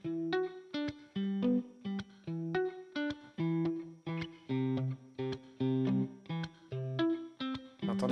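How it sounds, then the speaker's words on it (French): A virtual vintage electric guitar from Session Guitarist software, with reverb, plays rhythmic chord stabs and short riffs at a slow tempo. Each clipped strike leaves a brief reverb tail, heard clearly with no talking. "Vous entendez derrière le petit son là? Clac, clac, la reverb."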